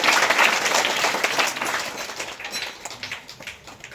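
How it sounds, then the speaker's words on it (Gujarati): Hearty applause from a gathered audience at a primary school program, dense clapping at the start that gradually thins and fades toward the end. "જોરદાર તાળીઓના ગડગડાટ વધાવીશું."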